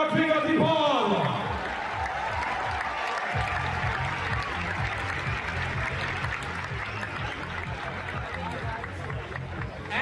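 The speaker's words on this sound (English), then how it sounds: "Big round of applause, ladies and gentlemen" Stadium crowd noise in Mumbai at a football star's tour event, a broad roar and clapping under an amplified announcer's voice, with a rhythmic thumping beat running through most of it.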